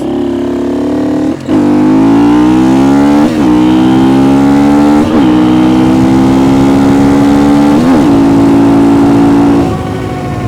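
KTM 250 EXC-F dual sport motorcycle engine revving high, loud and close, with a steady rising whine broken by several short throttle blips over about ten seconds.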